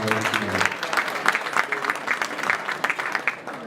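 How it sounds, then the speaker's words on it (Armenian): Audience applause in a banquet hall at a charity fundraising dinner, brisk, fairly close clapping for a few seconds with individual claps standing out, a voice briefly audible at the start. "խնդրում եմ ձեր ծափահարությունները"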